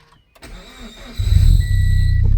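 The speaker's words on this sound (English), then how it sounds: "I'm going to go and start it up inside the car here now as well." A turbocharged Subaru BRZ with a failing throwout bearing starts up: a click and a short crank, then the engine catches and settles into a loud, steady idle.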